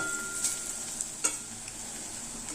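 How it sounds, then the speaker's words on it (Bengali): Fish-oil fritters fry in hot oil with a steady sizzling hiss, broken by a few brief clinks and stirring noises as the pieces are turned. "দ্বিতীয় লটের বড়াগুলোকেও ঠিক একইভাবে উল্টে পাল্টে লাল লাল করে ভেজে নেব"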